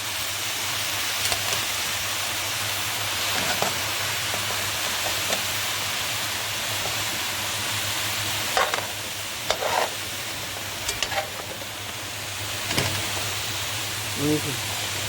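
Moussaka vegetables fry in a pan as they are stirred together, a steady sizzling hiss with occasional scraping and clattering of the spoon against the pan.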